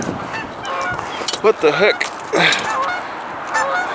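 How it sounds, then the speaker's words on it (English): A goose honks several times nearby at a fenced construction site in Prineville, Oregon, giving loud, nasal, wavering calls in short bursts, with a man's brief spoken reaction between them. "Goose is making a weird noise."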